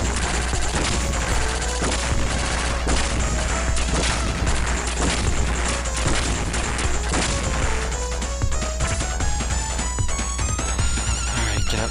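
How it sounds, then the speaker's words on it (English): Boss firing rockets in Contra Hard Corps, a loud, unbroken barrage of crashes and explosions layered over driving game music, dense and close for the whole stretch. "here comes the little rockets that are probably coming from the other side"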